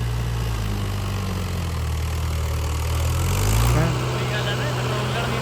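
A loaded tractor engine, fitted with an 11-tine plough, runs at a steady heavy rumble close by, swelling slightly near the end, while a voice talks over it.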